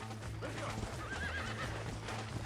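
A horse in Red Dead Redemption gives a wavering whinny over steady hoof clip-clops, fairly quiet and close, with a low game-world hum running beneath.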